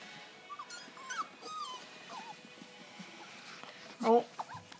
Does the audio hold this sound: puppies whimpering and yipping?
yes